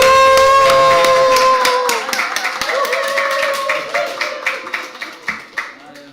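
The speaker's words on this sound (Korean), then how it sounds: "우리 시간에 사랑하는 민 목사 모실 때 큰 박수로 환영하겠습니다" A church congregation at a Wednesday praise service applauds to welcome a pastor, with dense clapping that thins into scattered claps as it fades, while a sustained musical tone plays beneath.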